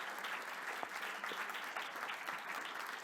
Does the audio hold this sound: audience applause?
yes